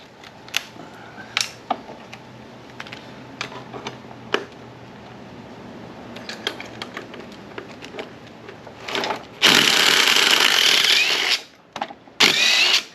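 Yellow impact gun removing tightly torqued bolts from a Harley-Davidson Sportster motor during teardown, a loud rattling burst of about two seconds and a shorter one soon after, close up, following scattered clicks and tool handling.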